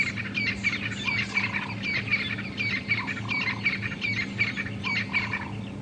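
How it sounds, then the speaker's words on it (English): Francolins call in repeated harsh, rhythmic phrases from a distance, layered over a steady low hum and other birdsong, including drongos, doves and orange-breasted bushshrikes, at dawn in Djuma Game Reserve. "Beautiful francolins calling, some drongos, doves."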